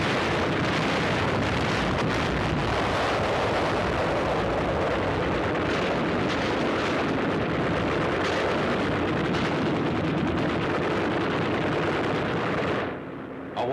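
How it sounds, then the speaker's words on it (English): Naval bombardment pounds a beach area, with landing craft adding an intensive close-in cover barrage; continuous dense rumbling gunfire and blasts roar without a break, loud and steady, cutting off abruptly near the end. "Naval bombardment of the beach area continues, augmented by an intensive close-in cover barrage delivered by LCIs."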